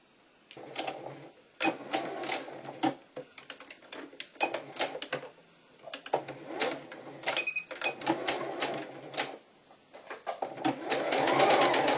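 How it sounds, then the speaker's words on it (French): Sewing machine running a seam 1 cm from the edge while assembling a jacket, heard as repeated bursts of fast mechanical stitching separated by short pauses, close and fairly loud with no talking. "on va venir réaliser une couture à 1 cm du bord"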